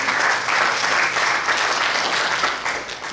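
A worshipping congregation gives strong applause in a church service, a thick, continuous roar of clapping hands that holds steady and loud throughout, easing slightly at the very end.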